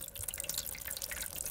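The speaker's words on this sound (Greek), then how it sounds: "Ναι, έτσι ακούγεται όταν βάζεις νερό για κάποιο λόγο" Water being poured in the Roblox video game, a quiet splashing trickle of quick drips and liquid spatter, faint and continuous over a low background, with no speech.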